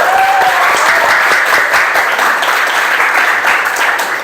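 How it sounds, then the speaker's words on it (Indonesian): A classroom of students claps hands together on a teacher's cue, a loud, dense burst of applause sustained evenly from start to end, close and filling the room without speech over it. "Terus tepuk tangan untuk kita semua."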